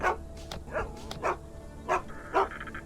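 Several dogs bark repeatedly in a video game setting, sharp woofs spaced irregularly at moderate distance over a quiet ambient background.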